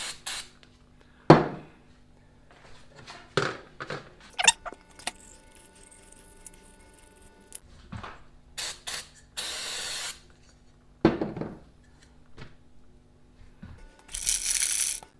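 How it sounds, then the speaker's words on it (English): Alcohol-based solvent sprays from a can onto a 50cc motocross carburetor in short hissing bursts, with metallic clinks and part handling in between, close and loud. "if this sprays back at you, it's like an alcohol-based solvent"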